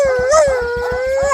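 A man imitates a dog, letting out a loud, sustained howl near the microphone that wavers in pitch, with a steady pulsing beat underneath throughout.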